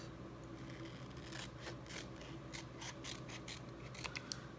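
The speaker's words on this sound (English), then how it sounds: "Cut that little sprig off." Small scissors snip a little sprig for a chalk-decorated welcome wreath, a quick run of faint, crisp cuts clustered close together under a quiet room hum.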